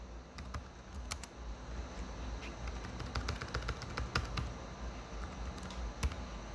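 Quiet keyboard typing on a computer, a scattered run of light key clicks at uneven intervals over a faint steady hiss.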